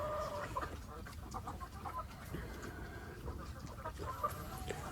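Chickens inside a hen house cluck and murmur in a busy, low chorus, with occasional sharper calls rising above the steady background of the flock.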